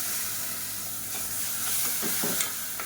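Blended tomato puree hitting hot oil in a pan while cooking a Tamil bean kuzhambu, giving a steady bright sizzle and hiss with a few stirring scrapes, close and unbroken.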